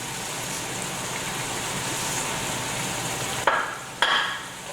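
Onions for French onion soup cooking in a pot with wine, pepper and salt, a steady soft sizzle throughout with two brief louder scrapes of stirring near the end.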